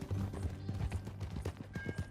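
Horse hooves clip-clop in a steady rhythm in the Western video game Red Dead Redemption 2, close and fairly loud, with a short whinny mixed in and no talking.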